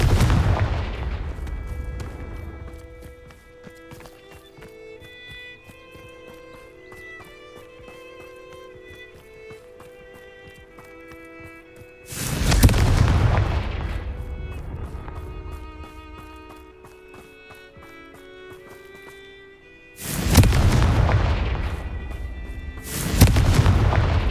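Fiery blasts from the Confringo spell in Hogwarts Legacy, with two loud broadband bursts around twelve and twenty seconds standing out over a steady bed of tonal game music and ambience, the second pair close together.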